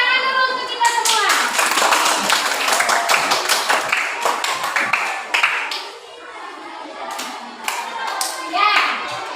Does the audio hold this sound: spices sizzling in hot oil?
no